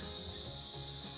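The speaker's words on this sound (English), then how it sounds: "it's cicada season." Cicadas drone in a continuous high, shrill buzz that stays even and unbroken throughout, carrying along in the background of a mountain setting with no voices present.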